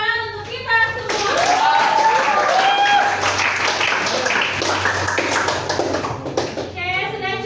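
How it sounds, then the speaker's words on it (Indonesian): A classroom of students breaks into loud applause, hands clapping densely for several seconds, with some voices calling out over it. "beri tepuk tangan untuk kita semua"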